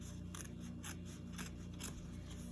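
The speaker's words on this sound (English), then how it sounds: "I literally have this back side of my blade just resting against the embroidery hoop so I can trim that excess fabric off." Blade trimming excess fabric against the edge of an embroidery hoop, a quiet close series of short snipping cuts in an uneven rhythm, with no talking.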